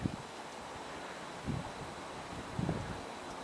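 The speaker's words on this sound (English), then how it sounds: "It's damn windy up there." Strong wind buffets a hilltop on Bishop Peak near San Luis Obispo, California, a continuous roaring rush with a few louder gusts that thump against the microphone.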